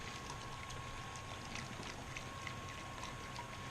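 Liquid runs steadily through a fully opened valve into a mash tun during all-grain homebrewing, a continuous, even rushing wash of moderate level with no talking.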